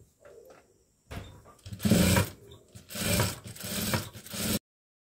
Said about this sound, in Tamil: அடுத்தது படிமான தையல் போடணும்.